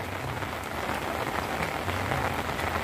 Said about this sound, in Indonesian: Berjalan-jalan sebentar di cuaca yang hujan begini.